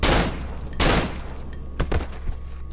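Gunfire in the Cry of Fear video game: two loud, heavy booming shots close together, followed by a few lighter cracks over a steady background hum.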